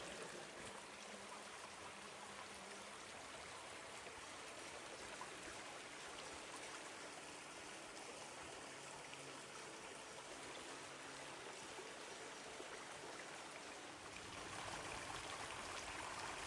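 A clear creek runs beside a hiking trail at a waterfall nature preserve, giving a steady, soft rushing trickle. The flow stays faint and even from start to finish, with no voices.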